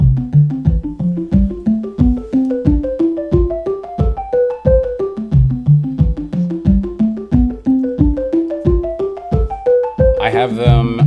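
Two synthesizer lines from a Buchla and Tiptop Audio 258t dual oscillator step through scales together, one starting on A, in a steady rhythm of plucky, bright notes, with a brief burst of noisy texture near the end.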